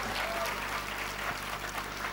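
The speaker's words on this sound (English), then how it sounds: "So I think we should really give him a round of applause." Dense, steady applause from a literary festival audience honouring the author Amish, sustained and even throughout, with a faint murmur beneath.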